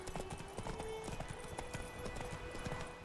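A horse gallops in The Witcher 3: Wild Hunt. Its hooves beat in a rapid, steady rhythm throughout, mixed with game sounds.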